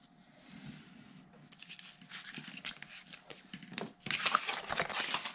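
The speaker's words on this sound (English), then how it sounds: "I'm just going to take my finger blade and trim away around" A finger blade trims around a piece of chipboard at a craft table, producing faint, close scratchy cutting strokes in irregular short bursts that grow busier toward the end.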